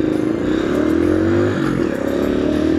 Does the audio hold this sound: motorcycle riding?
yes